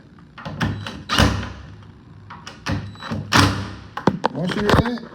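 A door repaired with zip ties is swung closed several times, giving sharp thuds and latch clicks in a row, close and fairly loud, with a voice talking briefly between them.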